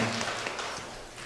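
A church congregation gives a short, steady round of applause, a dense, moderately loud patter of many hands clapping at once.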